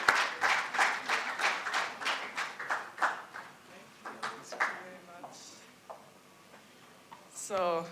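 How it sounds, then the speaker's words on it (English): A conference audience at an international business management and innovation event claps in a quick rhythmic burst that thins out and fades over a few seconds, followed by a brief voice near the end. "Let's clap hands until she gets here"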